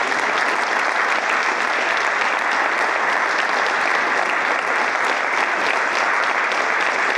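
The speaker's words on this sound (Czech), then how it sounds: "takže si prosím zatleskujte" A seated audience applauds steadily and loudly, dense overlapping claps sustained without pause from start to finish, with no speech over it.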